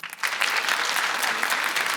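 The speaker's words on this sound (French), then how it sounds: "Applaudissez." Students applaud in a studio audience, a dense, steady burst of many hands clapping close by that starts abruptly and holds at an even level to the end.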